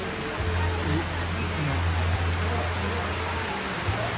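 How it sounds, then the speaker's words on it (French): Heavy rain pours steadily in Cameroon, a dense continuous broadband hiss at constant loudness with a low hum underneath and no distinct drops standing out. "Il pleut beaucoup aujourd'hui."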